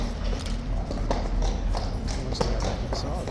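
Horse hooves clip-clop on hard ground at Horse Guards, an irregular run of close, crisp knocks over a busy background of crowd murmur and voices.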